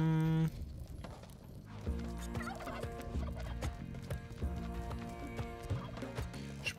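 Turkeys gobble in the Spelunky 2 video game, their calls sitting inside steady background game music with no talk.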